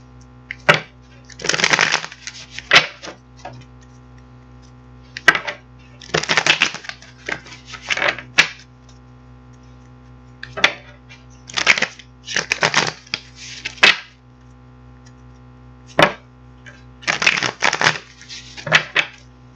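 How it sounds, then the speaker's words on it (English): Tarot cards are shuffled and pulled by hand, giving repeated crisp riffling and snapping bursts in irregular clusters, close and clear over a faint steady hum with no talk. "we're going to get some cards pulled out here and see what's cracking"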